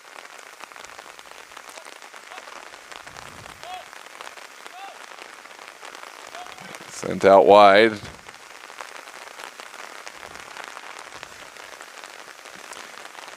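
Heavy rain pours steadily over a soccer match, a dense continuous hiss on surfaces throughout, with a commentator's voice briefly audible and a short burst of crowd noise or applause near the middle.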